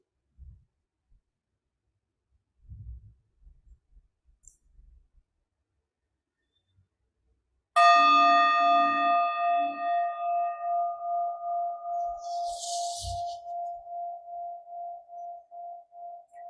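A meditation bell is struck once during a Shamatha resting practice after near silence, ringing loud and clear with a long, slowly fading tone that pulses gently as it decays.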